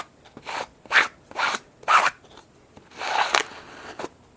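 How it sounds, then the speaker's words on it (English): An old credit card squeegees Stop Fraying Glue across fabric: about six short, close scraping strokes with brief pauses between them and no talking. "I'm going to squeegee it on"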